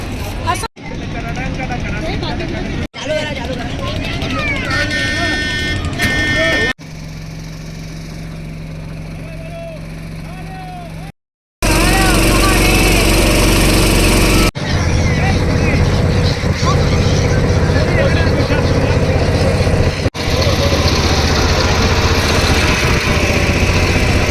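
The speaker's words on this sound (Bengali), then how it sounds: "আমাদের বোট এসে গেছে, এইটা আমাদের পার্সোনাল বোট।" Motorboat engine on the Ganges at Varanasi, a steady droning hum that runs through several abrupt cuts, mostly beneath people talking nearby.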